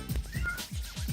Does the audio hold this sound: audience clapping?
no